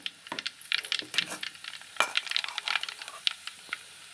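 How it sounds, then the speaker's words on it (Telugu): Mustard and cumin seeds crackle and pop sharply in hot oil for masala gongura, a quick irregular spatter of sizzling bursts close by. "ముందుగా ఆవాలు జీలకర్ర వేసేసుకోవాలి"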